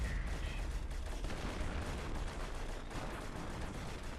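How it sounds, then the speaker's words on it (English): An artillery barrage rolls on in the wartime strategy game Europe in Ruins, a dense, continuous rumble of overlapping blasts and crackling impacts that stays loud and unbroken, with no talk. "we have a huge artillery barrage happening here on the right"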